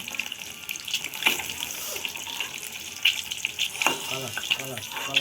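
Eggs frying in a pan with a steady sizzle, broken by scraping stir strokes and clinks from a spatula, close by and moderately loud throughout.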